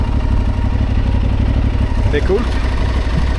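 Aprilia Tuareg 660 motorcycle riding on winding mountain roads on Lanzarote, its steady engine drone continuous and close throughout, with wind noise and a brief spoken remark over it.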